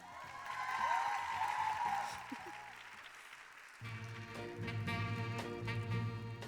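An audience at a conference plenary awards ceremony claps in a steady patter that swells and then fades, followed by a fresh burst of clapping as music starts underneath.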